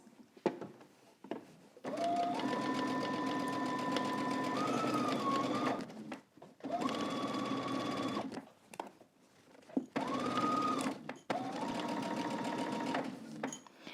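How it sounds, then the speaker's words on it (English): A sewing machine stitches a coat seam from a Simplicity 9186 pattern in several steady humming runs of a few seconds each, separated by short pauses and faint handling noises, close and fairly quiet. "Okay, we're gonna go to the sewing machine."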